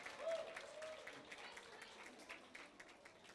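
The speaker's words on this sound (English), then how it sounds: "Ladies and gentlemen, a round of applause, please." Quiet applause from an audience at a college bridge course finale greets the Bright Sparks team, a faint diffuse patter with a brief vocal sound near the start and low talk underneath.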